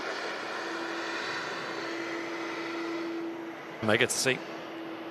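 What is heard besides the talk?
airliner taxiing at Manchester Airport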